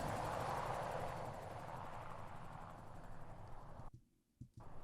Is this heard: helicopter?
yes